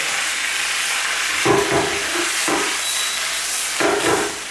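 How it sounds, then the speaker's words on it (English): Fresh bok choy stir-fries in a wok over very high heat, giving a loud, constant sizzling hiss with several short scraping bursts where the greens are tossed and stirred. "Stir that around and let that cook over very, very high temperature."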